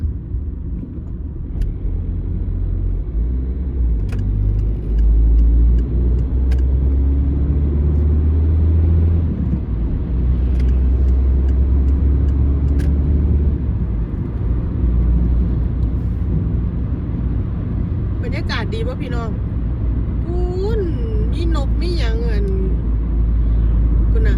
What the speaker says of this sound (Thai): รถขนหัวน้ำตาลนะจ๊ะอยู่ข้างหน้า